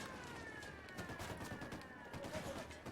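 Gunfire in a Batman video game: a steady stream of fairly quiet rapid shots runs through the whole stretch, mixed under a voice speaking.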